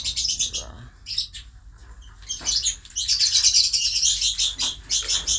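Several small birds chirp and tweet in rapid, overlapping bursts nearby, fairly lively, with short pauses between flurries and no talking.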